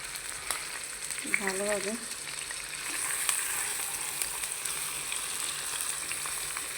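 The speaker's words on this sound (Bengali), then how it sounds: "দেখতেই পাচ্ছেন তেলটা গরম হয়ে গেছে। কাঁচামরিচ আর পেঁয়াজ দিয়ে" Green chillies and onion frying in hot oil, a steady crackling sizzle under a single spoken word, with a short whistling tone rising briefly near the start.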